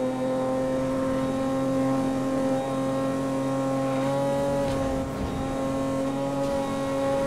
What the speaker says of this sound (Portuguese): o carro tá fazendo um barulho de, tipo, tá morrendo